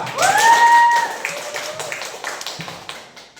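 Audience applause after a group's project presentation in a university mathematics education class begins with a short whistle over a burst of clapping, then thins into scattered taps and claps that fade out.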